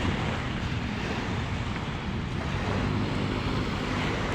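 Sea waves washing along the shore of Manila Bay, a steady broadband wash with wind buffeting the microphone, fairly close and continuous with no speech.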